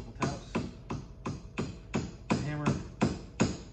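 A hammer taps a new front leaf spring bushing into place on a Club Car DS golf cart, about ten sharp metallic strikes in an even rhythm, close and clear.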